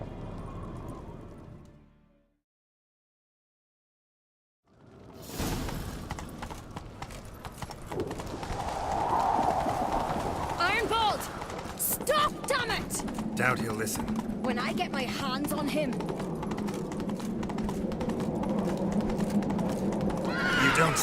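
Horse hooves galloping with rhythmic clip-clop and occasional neighs in The Witcher 3 during a chase, starting after a brief silence and running continuously beneath spoken dialogue and game music.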